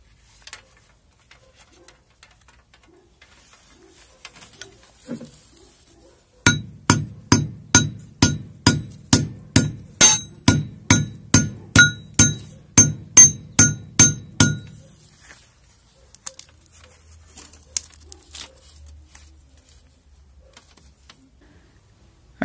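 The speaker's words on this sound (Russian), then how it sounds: "Думаю, что отобьем молотком, и она должна" A rapid series of about twenty sharp metallic hammer blows on a steel rail, stripping insulation from scrap cable, loud and ringing, in a steady rhythm lasting several seconds, then quiet.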